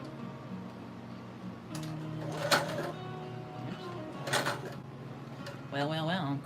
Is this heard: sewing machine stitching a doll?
yes